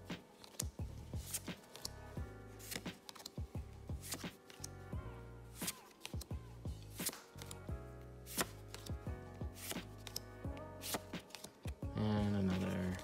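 Rapid riffling shuffles of Pokémon trading cards repeat in bursts, close and crisp, with soft handling noises in between.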